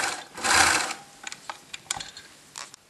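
A sewing machine stitches a seam on a knit tunic made from a kit, running in a fast continuous whir at first, then in short separate bursts and clicks, close and alone without speech.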